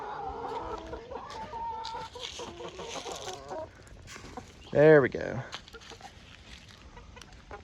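Chickens cluck and squawk close by, with one loud sharp call standing out, while a person speaks briefly in between.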